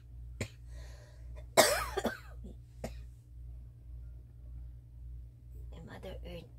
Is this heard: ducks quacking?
no